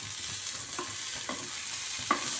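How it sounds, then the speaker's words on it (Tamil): Sliced onions stir and sauté in a pan for a South Indian brinjal kothsu side dish, giving a steady close sizzle with soft scraping strokes of the spoon and one sharper clink near the end. "இப்போ இந்த வெங்காயம் வதங்கிடுச்சு பாருங்கள்."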